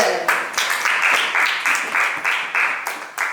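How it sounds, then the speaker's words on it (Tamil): A crowd claps steadily in applause, a dense patter of many hands swelling in waves, with voices faintly mixed in. "நல்ல ஒரு கைத்தட்டலோட."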